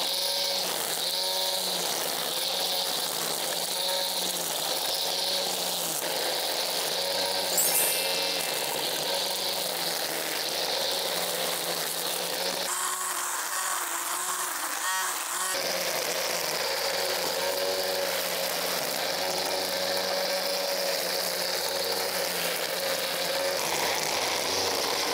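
A Greenworks cordless string trimmer fitted with a standard nylon cutter cuts grass, giving a steady, close, buzzing motor whine for the whole stretch, with a brief dip in pitch partway through.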